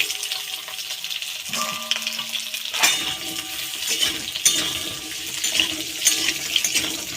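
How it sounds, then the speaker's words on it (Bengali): Potatoes frying in hot oil in a kadai give a dense, watery crackling sizzle, close and continuous, with a brief tonal clatter early on and intermittent stirring knocks throughout. "প্রথমে আলুগুলো একটু ভালো করে ভেজে নেব"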